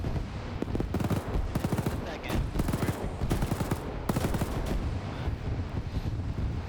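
Soldiers in a World War II video game fire continuously in dense, rapid volleys of rifle and machine-gun shots, loud and relentless throughout with no pause.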